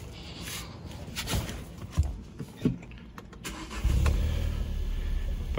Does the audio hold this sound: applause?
no